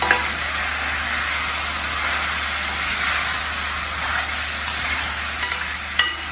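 Potato masala with coriander powder frying dry in a pan, no water added, with steady loud sizzling and hissing throughout and occasional sharp scrapes of a spoon stirring against the pan.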